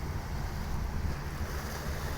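Waves wash at a seashore in a soft, continuous rush mixed with wind buffeting the microphone, low and steady over a brief stretch with no voices.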